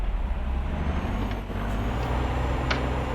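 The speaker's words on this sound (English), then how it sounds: "Let's just go for a test drive in our first ever truck." A heavy truck engine drones steadily while driving in Euro Truck Simulator 2, a continuous low rumble with a faint air-brake hiss, loud and close with no talk.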